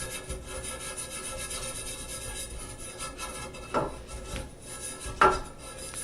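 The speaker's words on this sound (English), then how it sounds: "And once again, I'm cleaning it with a emery cloth." Emery cloth rubs solder off copper pipe in a shower enclosure repair, giving a soft, close scraping with two louder rasping strokes over a low background hum.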